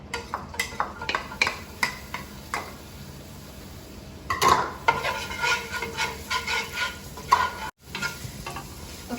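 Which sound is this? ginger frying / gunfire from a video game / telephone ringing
ginger frying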